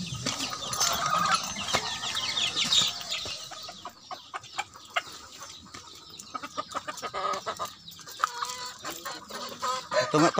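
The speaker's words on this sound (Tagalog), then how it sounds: "Hunter, dala na natin yung dalawang inahin at isang tandang." Hens cluck in a busy, overlapping chorus with a rooster among them, close by and fairly loud, with scratchy bursts throughout and no talking.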